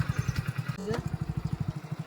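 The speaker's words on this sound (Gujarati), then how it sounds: "બાઇક ચાલુ કરી ગોગા મહારાજનું નામ લઈ અને નીકળીએ બરાબર ગાઈસ" A motorcycle engine is running with a rapid, steady thumping idle, then blips briefly as it moves off and settles back into the same chugging rhythm, close by with no talk.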